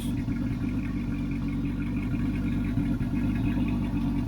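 A 2006 Dodge Charger with a 5.7 Hemi V8 and a new cam runs steadily, giving a deep, loud, continuous rumble with an even low-frequency pulse and no speech over it.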